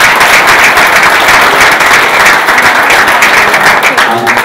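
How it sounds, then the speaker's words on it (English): A loud, dense round of applause from the crowd at a boxing press conference, sustained clapping filling the room from start to finish. "Give him a round of applause."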